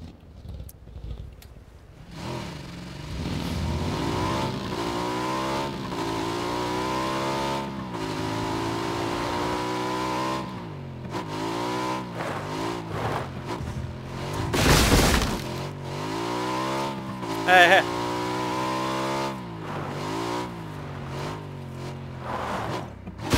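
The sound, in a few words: motorcycle engine revving in video game PUBG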